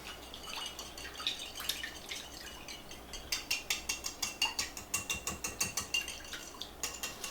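Three eggs are whisked in a bowl for French toast batter, a fast run of sharp, evenly spaced clinks and taps that grows steadier and louder toward the end, close by, with no talking.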